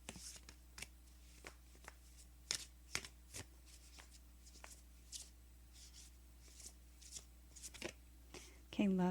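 Oracle cards shuffled by hand for a reading, a soft continuous riffling and slapping with repeated card flicks, close and fairly quiet, over a low steady background hum.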